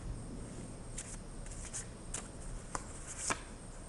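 Tarot cards are shuffled and drawn from a deck close by, making a series of faint, quick papery riffles and slides in a quiet room, with no talking.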